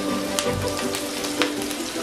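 Pork chops frying in olive oil with thyme in a pan, giving a steady, close crackling sizzle with a few louder pops throughout.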